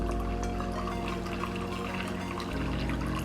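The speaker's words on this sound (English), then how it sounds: "we're going to pour our hot water into a cup." Hot water pours steadily into a cup in one continuous, close stream lasting a few seconds, with no talking over it.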